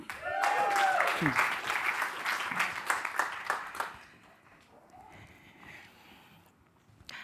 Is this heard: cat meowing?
no